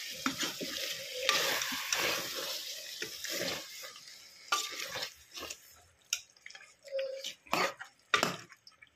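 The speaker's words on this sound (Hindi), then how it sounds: "अभी इसको मिक्स कर लें।" Yogurt and tomatoes being mixed into frying dry meat masala, wet sizzling and squelchy stirring with spoon scrapes against the pot, busy at first and then coming in separate bursts.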